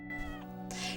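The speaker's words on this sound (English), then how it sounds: "Kitty!" A short cat meow sounds over a steady background hum from a television episode.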